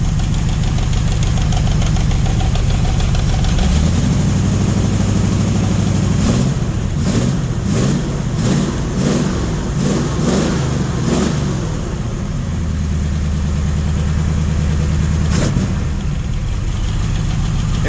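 A Mopar 400 big-block V8 with headers and a 4-speed, built for a 1964 Dodge Polara 500, idles loud and steady up close, then blips through a quick run of sharp revs before settling back to a rumbling idle, with one more blip near the end.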